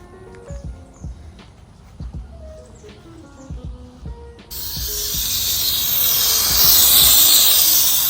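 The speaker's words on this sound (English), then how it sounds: "Steaming that thing up, y'all, because you're having a hard time up here." A steamer hisses against a gold vinyl wrap being peeled off a car. Soft knocks and handling noises come first, then a loud, continuous rushing hiss starts midway and swells until the end.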